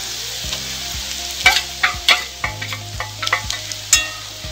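Masala for bucket chicken sautés in a pan with chilli powder, turmeric, salt and garam masala, giving a soft, continuous sizzle broken by sharp spatula scrapes and taps.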